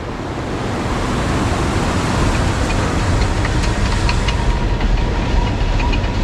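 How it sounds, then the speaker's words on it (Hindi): A water-driven gharat mill at a Har Ki Doon trek campsite grinds millet flour between millstones, a dense continuous rumbling roar mixed with rushing water, close and loud with no pauses. "ये नीचे चक्की पिस रही है।"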